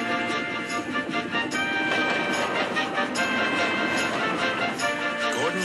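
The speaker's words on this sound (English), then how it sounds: "His wheels pounded the rails." A train rumbles and clatters along the rails in a steady, dense roar, with faint higher rattles and squeals riding on top.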